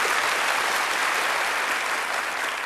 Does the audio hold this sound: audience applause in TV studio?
yes